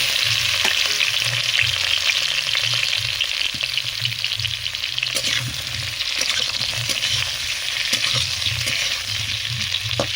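Boiled potatoes fry in hot mustard oil with a steady loud sizzle, while a spatula stirs and scrapes the pan in a regular rhythm, close by and with no talking.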